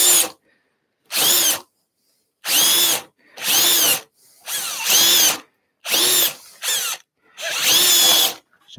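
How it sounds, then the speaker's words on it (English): A power drill boring holes in wood whines in repeated short bursts, about eight of them, each separated by brief silence, loud and close. "Let's have a look with the drill again then."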